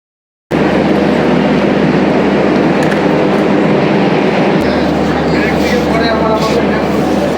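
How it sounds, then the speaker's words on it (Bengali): A train pulls into Cooch Behar railway station on a misty morning, a loud, steady rail rumble with a deeper roar joining partway through, continuing unbroken throughout. "এখন আমরা পৌঁছে গেছি কুচবিহার স্টেশনে"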